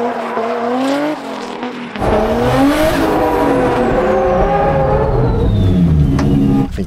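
A 1JZ-powered NASCAR race car drifting, engine roaring hard at high revs with screeching tire squeal as it slides and spins out, loud and close throughout after a brief dip.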